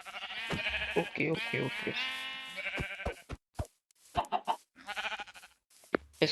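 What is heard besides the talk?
sheep bleating in a video game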